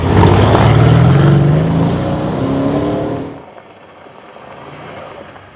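A Mercedes ML63 AMG SUV driving off-road gives a loud, close engine roar that holds for about three seconds, then drops away to a quieter distant rumble.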